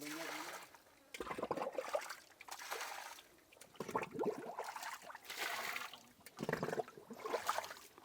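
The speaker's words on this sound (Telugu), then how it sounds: "అక్కడ లోపల నుంచి మీకు వాటర్ ఆ సొరంగంలో నుంచి బయటకు వస్తుంది." Water flows out of an underground tunnel at a temple in a steady, rushing trickle. The flow is heard in waves that swell and ease, fairly faint and close by, with no speech over it.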